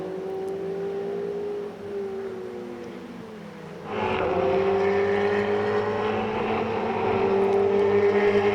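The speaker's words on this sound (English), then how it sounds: "Four cars, basically nose to tail, through one of the twistier sections of the racetrack." Four Ferrari Challenge race cars running nose to tail through a twisty section of the Circuit of the Americas, their engines droning and shifting in pitch, then swelling louder and closer as more cars pass at speed.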